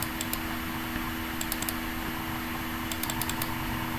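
Someone types on a computer keyboard in short irregular bursts of crisp, close key clicks separated by pauses, over a steady low background hum.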